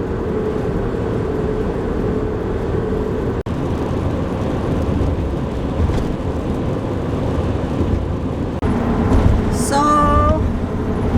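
A camper van drives along a road with a steady, loud rumble of engine and tire noise throughout, and a brief dip partway through; a rising whine or tonal sound appears near the end.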